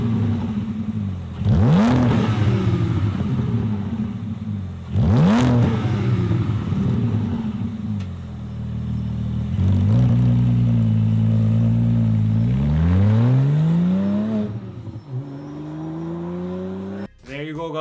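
A Porsche Cayman GT4 fitted with an FI exhaust revs hard several times. Each sharp rise is followed by a falling, crackling decay, and longer sustained climbs come later. It ends with a short burst of noise.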